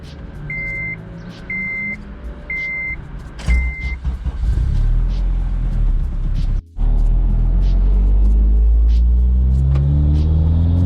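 A tuned Honda Civic Si making over 370 wheel horsepower starts with a run of four electronic beeps, then roars loudly as it accelerates hard in first gear, its engine tone climbing close and dominant.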